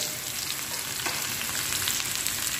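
Onions fry with garam masala in a pan, giving a steady close sizzle with faint stirring scrapes and no voice.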